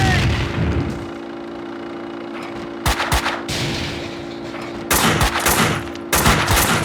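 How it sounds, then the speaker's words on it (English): A grenade blast and gunfire in Max Payne 2 crack out in several loud bursts over a droning background, with sharp impacts repeating every couple of seconds and no one speaking. "Grenade!"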